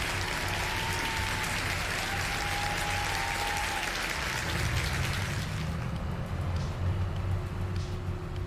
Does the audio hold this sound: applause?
yes